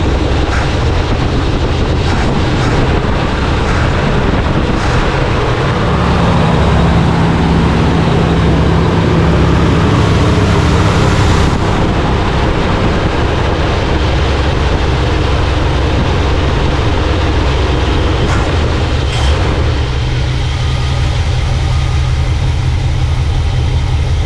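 Carbureted engine fitted with a new Evil Energy performance carburetor, started cold after sitting almost a week, runs steadily with a loud, low rumbling idle throughout, no talk over it.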